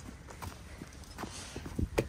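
A horse's hooves clip-clop as the animal is walked along, with several distinct, fairly close steps in an uneven rhythm that land harder toward the end.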